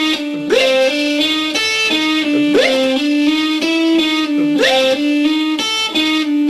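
An overdriven electric guitar picks a steady repeating pattern, its evenly spaced notes ticking like a metronome, loud and continuous.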